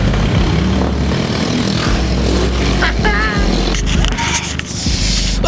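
A motorcycle pulls a wheelie at a car meet, its engine a loud, close roar rising and revving in bursts amid crowd noise and background voices.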